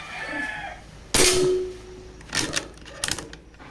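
An airgun pistol rifle fires one sharp, loud crack that rings out briefly, followed a second or so later by two fainter, quick clicks or impacts.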